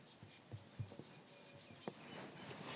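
Chalk or marker scratching out short strokes on a classroom board during a maths lesson, faint and intermittent, with a few soft taps between marks.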